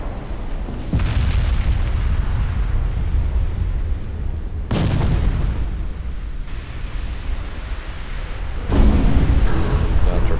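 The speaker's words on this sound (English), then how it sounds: "One torpedo, two torpedo. Sadly, both hit the stern." Torpedo hits exploding against warships in Ultimate Admiral Dreadnoughts, several loud, deep booms arriving one after another, each followed by a long rumbling roar over continuous battle noise.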